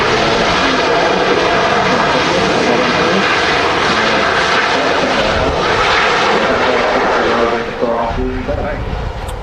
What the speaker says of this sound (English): That's Ryanair touching down from Berlin.